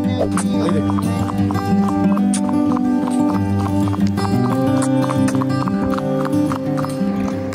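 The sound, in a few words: horse walking, hooves clip-clopping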